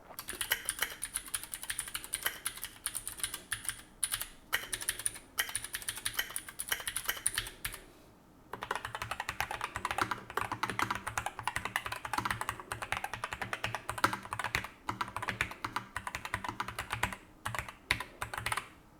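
Steady typing on a NuPhy Air75 V2 low-profile mechanical keyboard, quick soft clacks in a continuous rhythm, with a short pause partway through.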